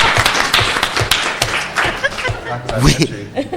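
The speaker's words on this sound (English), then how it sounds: "let's give Councilwoman Perry a round of applause." A round of applause for a councilwoman at a city council housing and economic development meeting, brief and uneven clapping mixed with talking, cheering and laughter in the room.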